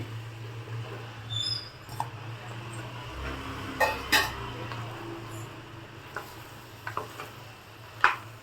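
Sliced mushrooms frying with tomato masala for a country-style mushroom biryani, a quiet sizzle under intermittent spatula scrapes and light pan knocks.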